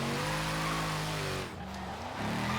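A Mercedes-AMG GT R in Forza Horizon 3 squeals its tires while cornering, a loud steady engine drone with a sliding tire screech that dips briefly before the revs climb again.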